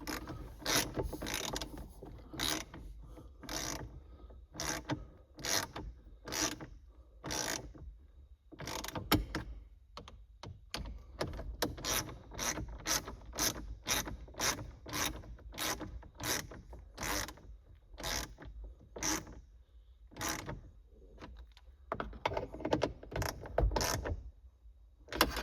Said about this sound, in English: I'll just tighten those up with the ratchet.